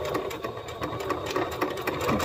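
Brief, steady, rapid mechanical chatter of a sewing machine stitching along a folded casing seam on a daisy top, close and continuous with no talking.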